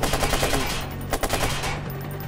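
AK rifle gunfire in the video game Watch Dogs, loud rapid bursts of automatic shots rattling almost continuously, with a brief pause in the middle before firing resumes.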